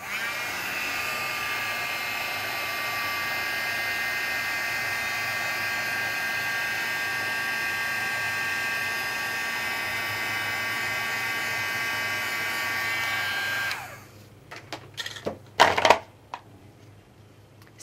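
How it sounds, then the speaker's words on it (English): A heat gun blows with a steady, loud whirring hiss while drying acrylic paint on a craft box, then switches off, followed by a few brief clunks and handling noises. "or you can use a heat gun to accelerate it."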